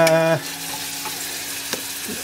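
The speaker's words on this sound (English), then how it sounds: "let's just sweat these onions down" Onions sweat and sizzle in a hot pan, a steady, close frying hiss that follows a brief tonal clatter at the start and carries on alone with a few small pops and stirs.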